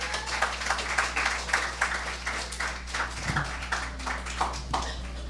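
A church congregation claps for its new graduates, a fairly steady run of soft hand claps that pulses in waves over a low hum, with no voices on top.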